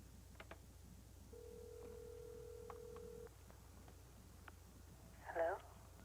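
A telephone on a quiet line gives a steady tone lasting about two seconds, with faint clicks around it and a short warbling burst near the end.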